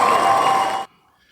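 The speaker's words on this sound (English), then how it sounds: "And we'll have a bit of cheering as well." A cheering crowd sound effect with applause plays loud and dense for under a second, then cuts off abruptly into near silence.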